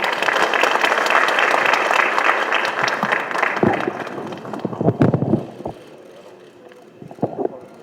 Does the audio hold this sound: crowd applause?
yes